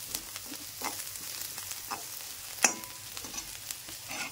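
Red chillies fry in hot oil in a pan with a soft crackling sizzle, punctuated by occasional stirring clicks and one sharp clink of a utensil against the pan, close and fairly quiet.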